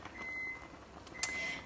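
Two short, thin electronic beeps from a microwave oven sound in a quiet kitchen, about a second apart. They are moderately faint, with no talk.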